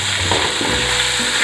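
Onion, capsicum, carrot and beans stir-frying for restaurant-style chicken fried rice, a loud, dense, steady sizzle with stirring scrapes, close and uninterrupted.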